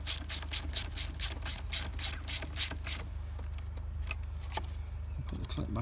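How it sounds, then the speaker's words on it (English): A ratchet tightens a 10mm bolt on a Nissan Qashqai diesel engine in a run of about ten quick, rhythmic clicks up close, followed by quieter workshop handling noises. "We'll pop the 10mm bolt back on the top of that."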